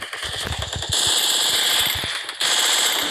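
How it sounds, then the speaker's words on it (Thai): Rapid automatic gunfire in a shooter video game, loud and continuous bursts of rattling shots with a few sustained louder stretches, no talking. "โดนคนยิงตาย"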